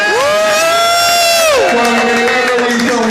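A showcase crowd at a producers event in Atlanta roars and cheers for a performer, loud sustained whoops and shouts with clapping mixed in, one long yell rising and falling before the noise settles.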